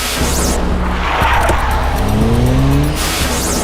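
A car speeds off with its tires squealing, the engine roaring loud and close throughout the whole stretch.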